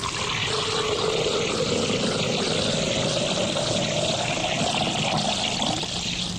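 An ice cold bone dry martini is poured on a 1994 radio show, a steady liquid trickle that runs the whole time beneath a constant hissing, washy background with no talk.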